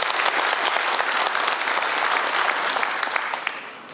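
A hall full of people at a veterans' association general meeting applauds warmly to welcome the president of a fellow veterans' group. The clapping is dense and steady, and it fades slightly toward the end.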